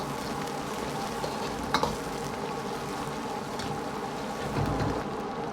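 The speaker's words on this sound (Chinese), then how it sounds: "下入海鲜菇一起煸炒，炒出海鲜菇的鲜味" King oyster mushrooms stir-fried in hot oil with scallion, ginger and garlic give a steady, close sizzle with soft stirring scrapes and a couple of brief utensil clicks, and no voices are heard.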